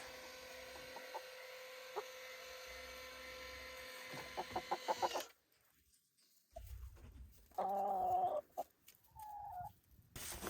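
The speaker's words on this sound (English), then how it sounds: "And the chickens will come piling out." Chickens leaving the coop on a homestead in a short flurry of clucks and rustling, with a quiet gap partway through before more scattered calls and bursts of activity close by.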